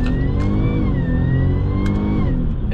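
A 2016-2020 Jaguar XF engine revs hard and steadily under acceleration, loud and close, its tone rising and holding through the clip with no talking.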